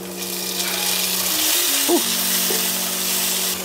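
Onion and tomato hit hot oil in a pan already holding garlic and ginger, giving a steady close sizzle with a brief clatter of ingredients dropping in partway through.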